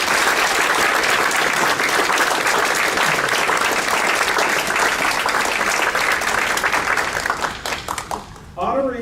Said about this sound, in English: Please join me in one more round of applause for our honorees on tonight.